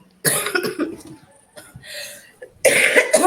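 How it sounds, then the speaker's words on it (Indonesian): Several harsh coughs in two bursts, loud and close, with a short quieter gap between them. "saya batuk-batuk"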